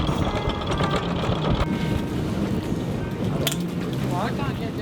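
Sailboat motoring forward at idle on both engines, leaving an anchorage at Parker Point off Rottnest Island, Western Australia: a steady low engine drone with wind rush and water noise, loud and continuous throughout.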